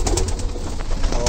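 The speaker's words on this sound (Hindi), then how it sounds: "ये कलचीरा जो है बहुत ही बेहतरीन और नायाब नस्लों का कबूतर है" A Kalchira breed pigeon coos in a brief, close, steady burst of low throaty calls over a dense background.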